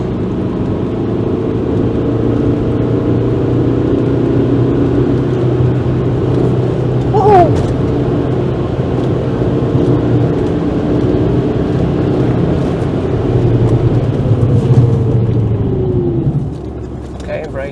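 An Alfa Romeo 156 1.9 JTD diesel engine hums and rises in pitch as the warm car speeds up, a steady loud rumble with a brief whine partway through.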